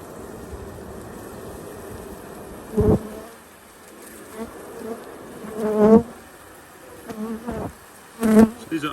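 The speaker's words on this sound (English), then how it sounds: "So now you'll see the bees, they will come out." Bees buzz close to the microphone as they fly out of a package box in a forest, a soft drone broken by several louder passes of individual insects zipping near.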